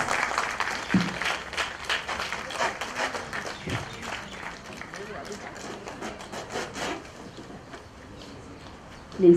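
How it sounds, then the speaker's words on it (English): At a ribbon-cutting ceremony inaugurating a new school campus, a crowd claps in a fairly brisk, scattered patter that thins out toward the end, mixed with some background voices. "Please give them a big round of applause."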